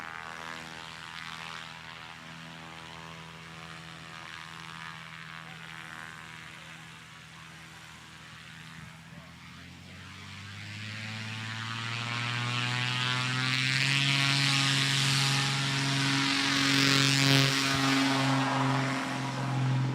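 The engine of a Sonic Rebel aircraft runs continuously, a droning hum with steady tones that rises in pitch and loudness about halfway through and holds there, with no talk.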